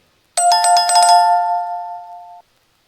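A mobile phone rings out loudly during a Ramadan religious lecture, a bright synthetic chiming ringtone with a rapid repeating pattern for about a second, then a sustained tone that holds for another second before stopping abruptly.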